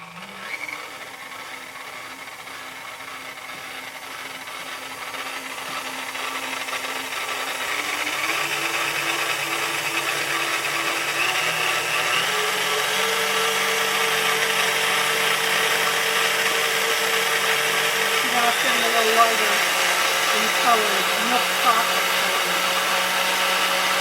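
An electric mixer whirs steadily through brownie batter for a long stretch, its motor tone shifting in pitch as the beaters work, loud and close with no pauses.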